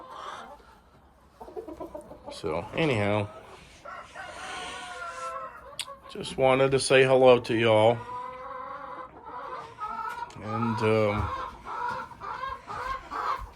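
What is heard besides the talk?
chickens clucking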